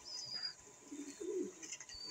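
Pet pigeons coo softly at a fancier's loft, with a few faint, low murmuring calls and light chirps against a quiet background.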